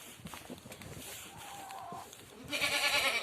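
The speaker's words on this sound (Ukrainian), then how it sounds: "Що мекаєш? Що хочеш?" Goats bleat in a farmyard pen where rabbits are also kept, with a drawn-out bleat near the middle and a louder, closer cry at the end over steady background noise.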